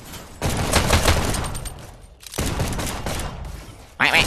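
Twin pistols fired together in a VR shooter game, a loud, dense rapid volley of shots in two sustained bursts separated by a brief pause, with a player's voice faintly mixed in.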